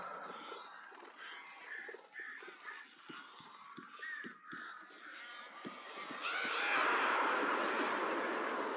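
Crows caw repeatedly in the Alan Wake video game, a harsh layered flock of calls that swells louder and denser toward the end over a noisy, rustling background.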